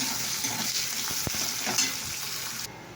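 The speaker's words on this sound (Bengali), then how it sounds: "পেঁয়াজটাকে একটু ভাজতে" Chopped onions sizzle loudly in a hot pan, with stirring scrapes and one sharp utensil knock, the hiss dropping away abruptly near the end.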